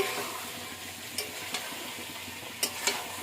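Potatoes and chicken sizzle steadily in a frying pan while a utensil stirs them, a few sharp scrapes and clicks of the spoon against the pan standing out over the constant hiss.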